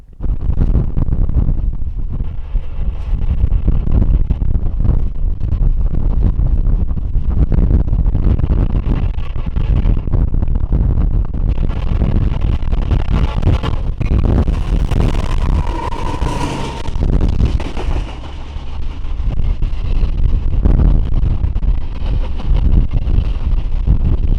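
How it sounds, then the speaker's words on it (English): Strong wind batters the microphone out in rural Indiana near a railroad crossing, a loud rumbling buffet that surges and gusts without pause, with no voices. "It was extremely windy here."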